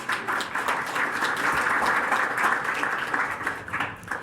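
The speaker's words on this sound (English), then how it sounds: "So if you'll give them a round of applause." Audience applause at a speaker program, a steady mid-level wash of many hands clapping that swells slightly mid-way and thins toward the end.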